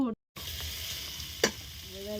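Kohlrabi and potatoes frying in a pan, a steady close sizzle with a short dropout near the start and one sharp clatter midway, no voices.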